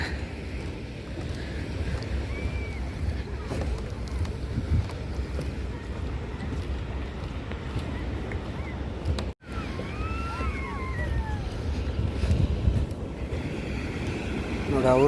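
Sea waves at Panambur beach roar steadily, with heavy wind buffeting the microphone throughout. A few faint voices can be heard in the background.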